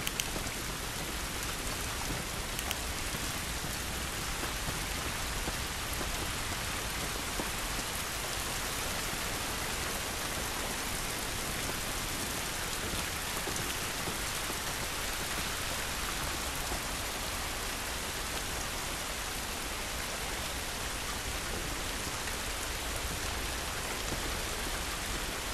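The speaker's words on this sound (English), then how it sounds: "This rain ain't gonna do us any good." Steady rainfall in The Last of Us video game, a dense, even hiss of drops on surfaces that continues unbroken and moderately quiet, with no voices over it.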